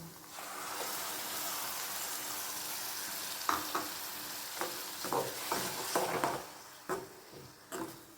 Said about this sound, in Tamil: இது நல்லா வதங்கிட்டு வந்து எண்ணெய் பிரிஞ்சு வரட்டும்